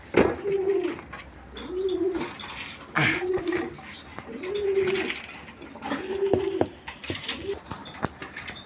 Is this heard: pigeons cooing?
yes